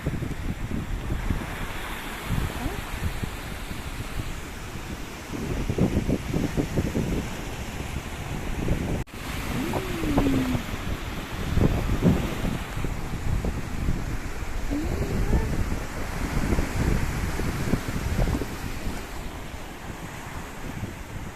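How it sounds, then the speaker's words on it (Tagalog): Steady roar of surf breaking on Cabongaoan Beach, Burgos, Pangasinan, with broad washing noise and gusty wind buffeting the microphone throughout. "hampas ng tubig"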